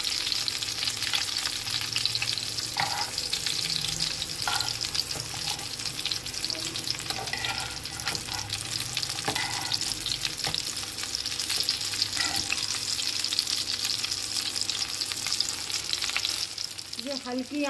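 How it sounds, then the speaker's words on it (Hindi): Chicken pieces shallow-fry in a pan over low heat for a Pakistani garlic chicken dish, a constant close sizzle and spatter of hot oil with occasional faint clinks and scrapes, no talking. "इसे हल्की आंच पे फ्राई करना है ताकि ये गोल्डन भी हो जाए और चिकन भी अच्छी तरीके से अंदर से पक जाए"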